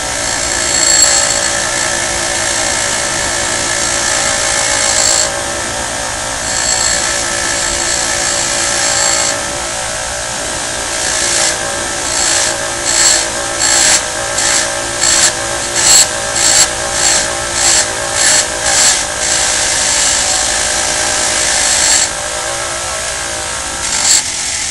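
Buffer wheel polishing an engine valve: a loud, steady motor whine with a bright grinding hiss, broken in its latter half by a rapid series of rhythmic surges as the part is pressed against the spinning wheel, with no talking.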